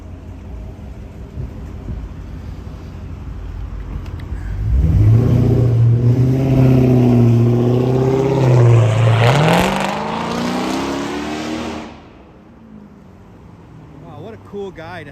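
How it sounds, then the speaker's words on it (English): A car with a loud exhaust revs hard on a Vancouver street, a rising, rumbling engine roar that swells for several seconds, then cuts off abruptly over background traffic noise. "Cool guy to have such a loud"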